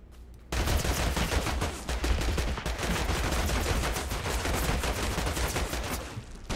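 Rapid, dense gunfire from a shooter video game sets in abruptly after a brief quiet start, then continues as loud, steady bursts of shots to the end.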